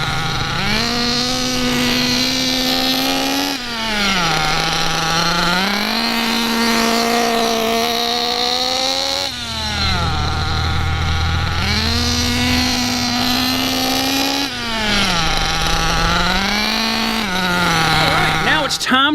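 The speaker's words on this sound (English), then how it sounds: "While doing figure eights, you want to keep the buggy moving without going over half throttle." A Redcat nitro RC buggy engine whines loudly and continuously, its pitch rising and falling in repeated cycles as it revs up and backs off during figure eights.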